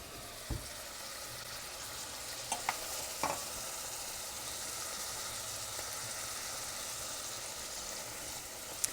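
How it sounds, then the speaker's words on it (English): Mushrooms and celery, salted, saute in a pan with a quiet, steady sizzle. A few soft clicks and scrapes from stirring break through the hiss. "We'll saute this just a bit."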